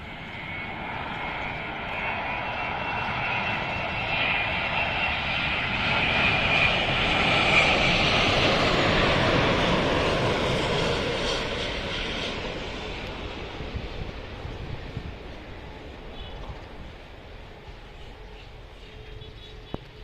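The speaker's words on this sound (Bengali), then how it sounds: "এই বিমানটি আস্তে আস্তে এগিয়ে আসছে হজরত শাহজালাল আন্তর্জাতিক বিমানবন্দরের রানওয়েতে অবতরণ করার জন্য" A jet airliner's engine roar builds steadily as it approaches to land at Hazrat Shahjalal International Airport, Dhaka, swelling to a loud peak midway and then easing off, with no voices.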